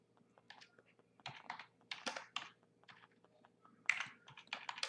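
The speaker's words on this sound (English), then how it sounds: "all I'm doing is typing here" Keystrokes on a computer keyboard come in quick irregular bursts with short pauses between them, close and fairly quiet, alone with no speech.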